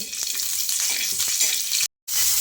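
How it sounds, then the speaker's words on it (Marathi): Green chillies fry in oil for gavar thecha, a close, steady sizzle with small crackles. It stops abruptly for a moment near the end, then returns. "मिरच्या 2 मिनिटं असं छान आलटून पलटून भाजून घ्यायच्या."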